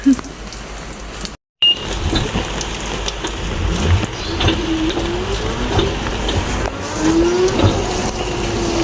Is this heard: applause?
no